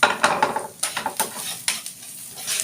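Adobo cooking in a pot on the stove of an outdoor dirty kitchen in Los Baños, with soft sizzling under repeated clinks and scrapes of a utensil stirring against the pot, close and moderately loud.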